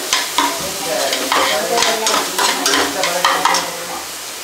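A spoon scrapes and stirs a sizzling masala for chicken curry in a frying pan, with repeated close, rhythmic strokes over a continuous fry.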